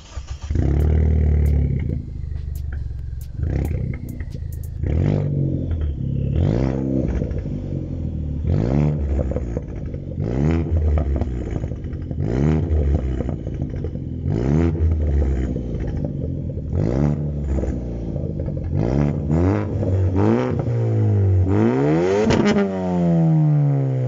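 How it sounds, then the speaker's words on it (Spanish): A car engine with a new exhaust pipe, mufflers and pre-muffler removed and new tips fitted, revs repeatedly in loud, close bursts, each roar rising and falling, with a final long climbing rev near the end; no one speaks. "La tubería es nueva. Le quité los silenciadores, el pre, y le compré nuevas puntas."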